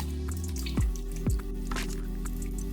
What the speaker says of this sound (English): Next, we're gonna add a can of diced tomatoes.